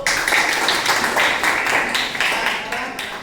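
A geography class applauds together in a classroom, a dense, close burst of many hands clapping that holds steady and then fades slightly at the end.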